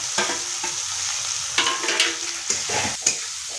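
Chowmein ingredients with onion frying in hot oil in a pan, giving a steady close sizzle broken by a few sharp stirring scrapes and knocks.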